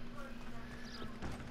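Horse hooves clip-clopping in the western game Red Dead Online, a quiet, busy patter of footfalls blended with faint game ambience and a brief sharper thud near the end.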